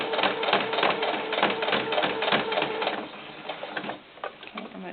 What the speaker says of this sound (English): I'm going to go back and sew over that one place where I can see the seam on the outside